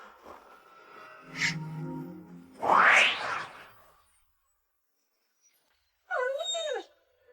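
People in a drama are transformed into dogs: a soft whimper, a sharp rising yelp, then a quiet pause before a wavering, whining cry.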